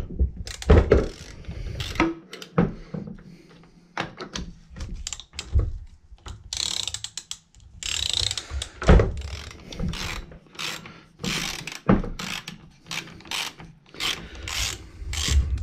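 A 14 mm ratchet loosens the side cover nuts on a Poulan chainsaw during a teardown. Short bursts of quick, close mechanical clicking come with brief pauses between them, and no voice is heard.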